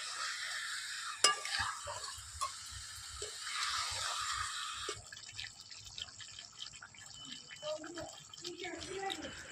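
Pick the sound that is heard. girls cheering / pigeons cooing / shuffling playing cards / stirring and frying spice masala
stirring and frying spice masala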